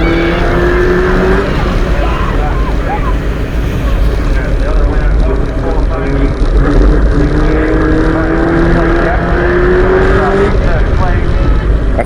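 Prostock stock cars racing at Crimond Raceway, engines roaring loud and close with rising and falling revs as the pack charges into the turns, under a constant rush of wind and track noise.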